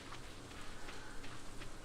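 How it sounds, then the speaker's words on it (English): Rain falls steadily in a farming video game, a soft even hiss of pouring rain with faint patter and no voices. "Oh, it's raining. It's pouring."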